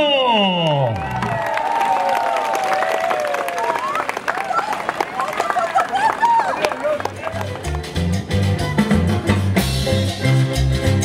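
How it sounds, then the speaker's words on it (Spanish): Crowd at a municipal anniversary celebration in Quipile applauding and cheering, a busy continuous mix of clapping and shouts, with music coming in toward the end and voices throughout. "¡Fuerte el aplauso!"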